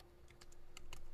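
Several quick keystrokes tapped on a computer keyboard while entering text into a Python configuration file, soft clicks in small irregular clusters against a faint steady hum.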